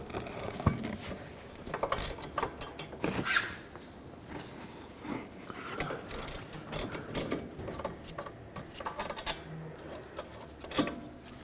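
A ratchet works two 13mm bolts holding the rear brake caliper bracket to the knuckle on a 2007–2009 Saturn Aura, giving close, irregular bursts of clicking and metallic clatter with short pauses between strokes.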